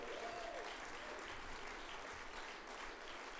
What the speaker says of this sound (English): could we please have a round of applause for them?